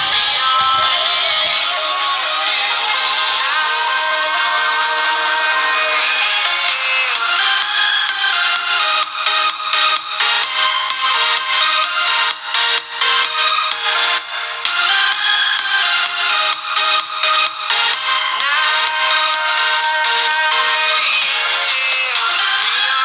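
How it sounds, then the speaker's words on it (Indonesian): Music plays steadily from the built-in speaker of a Samsung Galaxy A03s phone, bright and thin with almost no bass, filling the whole stretch without any talking. "berikut adalah sampel suara speaker dari Samsung"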